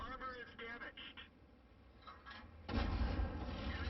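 A tank cannon fires in World of Tanks: one sudden, deep, booming shot near the end, after a stretch of quieter game audio with someone talking over it.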